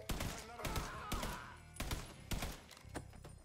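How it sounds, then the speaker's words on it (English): Several gunshots in the open-world crime game Mafia III, sharp loud reports in quick bursts with echoing decay, close and dominating the mix. "Look how good of a shot that was."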